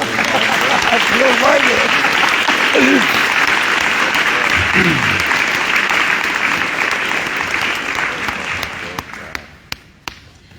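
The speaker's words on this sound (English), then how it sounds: "How about we give our judicial candidates a round of applause?" A debate audience gives judicial candidates a round of applause, loud sustained clapping from a crowd with voices briefly audible, fading out into a few scattered last claps near the end.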